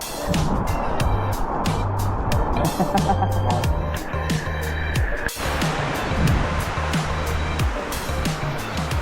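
Rushing water at the Kudiya waterfall in a hidden forest spot, a loud continuous roar and splash close by, with clicks and a brief sharp knock partway through.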